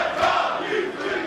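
Wrestling crowd at a PWG show, fans divided between Jeff Cobb and Keith Lee, roaring and chanting as one steady, dense wall of voices for the whole stretch, with no single voice standing out.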